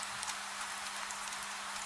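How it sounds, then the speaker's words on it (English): Gentle rain falls steadily on a tiled roof in old Edo, a soft unbroken wash of patter with a few slightly louder drips standing out, no voices present. "Soft rain. Steady rain. Rain on tile."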